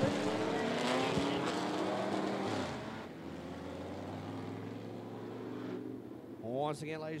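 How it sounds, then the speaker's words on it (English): Race cars run a six-lap heat race at 411 Motor Speedway, their engines a loud, roaring, shifting drone that fades somewhat after a few seconds, with a voice speaking over them near the end. "this will be a six-lap heat race"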